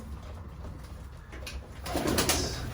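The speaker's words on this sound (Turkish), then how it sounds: "karnı doyan kuşlarımız da yavaş yavaş su içmeye gidiyorlar" Pet pigeons or doves in their enclosure give soft, low cooing calls at a moderate distance, with faint rustling and a slight rise in activity toward the end.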